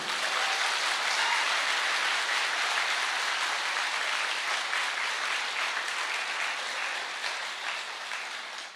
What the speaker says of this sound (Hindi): तो एक जोरदार तालियां आपके सेहत के नाम पे।